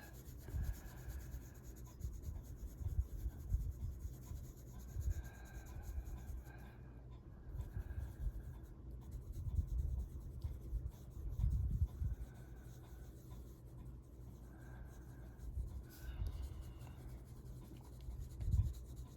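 A colored pencil moves across white paper with a very light touch, giving soft, repeated scratchy strokes in short bursts, close and quiet, with a voice talking at times.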